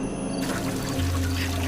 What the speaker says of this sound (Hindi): उस दिन बारिश बहुत तेज हो रही